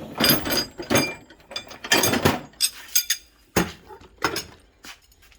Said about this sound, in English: So we grab the impact. And extensions.